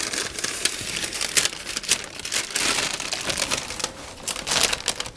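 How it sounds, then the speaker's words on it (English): Baking paper being peeled away from a baked vanilla sponge for a Yule log, a close, continuous crinkling and crackling with irregular louder tears and rustles throughout. "And remove the paper, which should come off"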